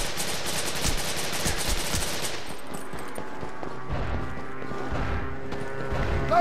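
Rapid automatic gunfire and bursts of shots during a NorCal siege match in Devil's Third on Wii U, dense and loud at first, then sparser shots and clatter continuing without speech.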